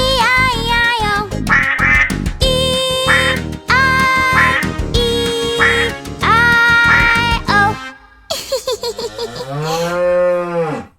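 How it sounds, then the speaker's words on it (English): A cartoon farm duck quacks in a nursery rhyme song, following loud sung and cow-like mooing phrases with music, the quacks arriving as a quick bright run near the end. "With a quack quack here and a quack quack there"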